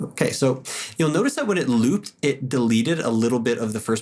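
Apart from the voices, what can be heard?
No everyday noise stands out behind the speech.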